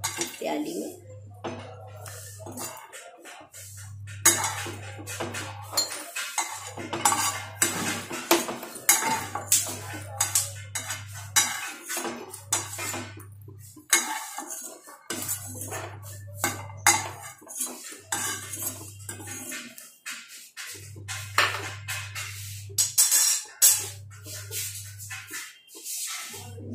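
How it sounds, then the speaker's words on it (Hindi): Roasted peanuts being scooped from a pan into a small bowl with a metal spoon: repeated scraping and clinking of metal on cookware over nearly half a minute, with a steady low hum cutting in and out underneath. "अभी हमारी मूंगफली भुन गई है, उनको हम बर्तन में निकाल देंगे प्याली में।"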